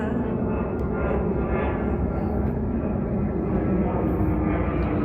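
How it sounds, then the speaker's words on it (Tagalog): Fixed-wing airplane passing overhead at night along a seaside, a steady broadband engine drone holding at constant loudness throughout with no break or fade. "Aeroplano ulit. Yan. Yan, aeroplano."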